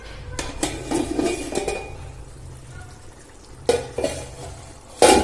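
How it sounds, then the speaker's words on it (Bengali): Metal pot lid lifted off a simmering pan of Bengali potato and egg curry, with sharp clanks and clinks near the end after a stretch of stirring and scraping noises. "আমি ঢাকনাটা খুলে দেখে নেবো"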